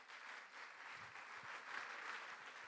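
A church congregation applauds together, a faint, steady patter of many hands clapping from across the room, with no voices over it.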